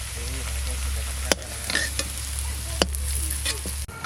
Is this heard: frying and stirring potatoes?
yes